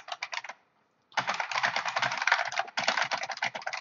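Typing on a mechanical keyboard with buckling spring switches, an IBM replica: dense, rapid clattering keystrokes close up, with a brief pause of silence before a long burst of fast typing.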